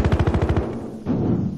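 Rapid automatic gunfire in Battlefield Hardline, a tight burst of about a dozen close, loud shots in quick even rhythm, cutting off sharply and followed by a softer rumble of background noise.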